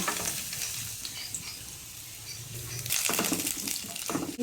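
Garlic sautéing in a little cooking oil, a moderate sizzle with clinks and stirring that swells louder toward the end, no speech.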